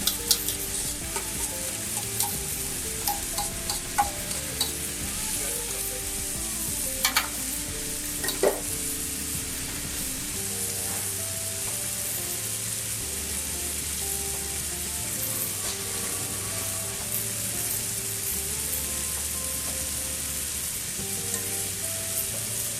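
Tandoori chicken pieces sizzle and fry in a pan with a constant, close hiss, while occasional stirring scrapes and clinks punctuate it and a low hum runs underneath.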